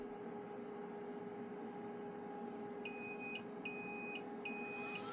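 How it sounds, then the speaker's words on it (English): An Anycubic Kobra S1 3D printer sounds three short, high electronic startup beeps in an even rhythm over a faint steady hum, quiet and close, with no talking. "That's just the startup beeps."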